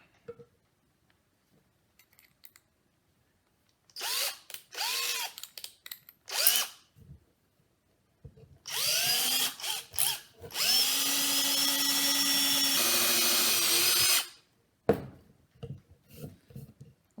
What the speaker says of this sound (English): Got all my holes drilled in.